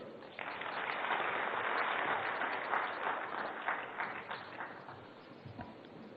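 An audience applauds a minister at the inauguration of the newly built Chhatrasal Convention Centre, with sustained, dense clapping from a large crowd that swells quickly and then slowly thins toward the end.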